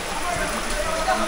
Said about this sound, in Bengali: ও প্রচুর পরিমাণে বৃষ্টি হচ্ছে।